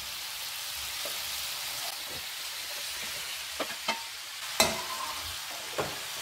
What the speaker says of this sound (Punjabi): ਲਓ ਜੀ ਹੁਣ ਆਪਾਂ ਇਹਦੇ ਵਿੱਚ ਬਰੋਕਲੀ ਐਡ ਕਰ ਦਿੰਦੇ